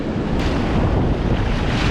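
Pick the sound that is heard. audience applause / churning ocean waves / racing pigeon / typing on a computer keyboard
churning ocean waves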